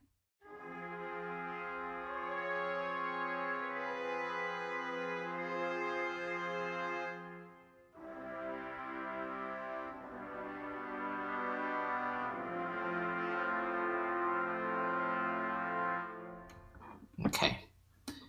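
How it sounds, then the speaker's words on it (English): Orchestral sample-library brass played with a soft straight mute, two long held chords separated by a brief gap, quiet and even, followed by a short burst of clatter at the very end. "The soft straight mute sounds like this."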